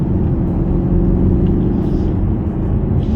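A Mercedes-Benz E 220d Estate diesel engine under full throttle, a loud, steady low rumble and drone heard from inside the car, continuous and alone with no talk.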